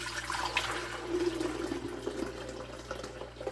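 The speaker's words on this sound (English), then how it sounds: "I want to pour about half of them." Water holding rotifers is poured into a culture tank during a 16-litre setup upgrade, a steady close splashing trickle that runs without a break and with no talk over it.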